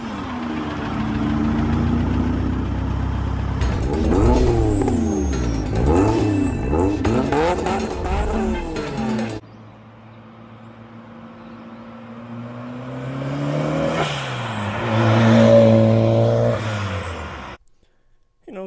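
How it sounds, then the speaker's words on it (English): An automatic turbo Miata with an aftermarket intake manifold and a Greddy Type S blow-off valve, revved in close, quick blips that rise and fall, with a whooshing release as the throttle snaps shut, then settling back toward a rough idle. "you can see that Gretty Type S blow-off valve"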